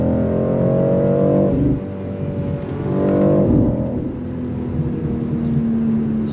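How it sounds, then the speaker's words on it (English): A BMW X4M Competition with its exhaust button switched on revs loudly and close up, the engine note climbing and falling in two strong pulls before settling into a lower steady drone. "Exhaust button on, yes."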